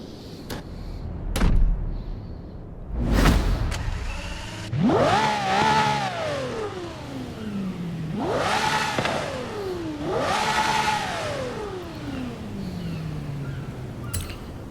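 Sports car with a 6.5-liter V12 starting up, followed by three long rising-and-falling revs that climb sharply and drop back, heard close and loud with a few sharp clicks and thumps before the engine fires.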